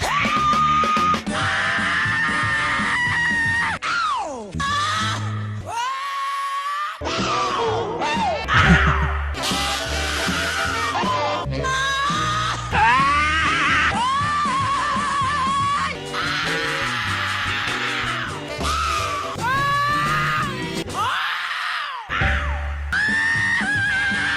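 Screams on funk recordings, a string of raw, strained vocal shrieks and yells cut from different tracks, loud and close over a full band, with short breaks between the edits.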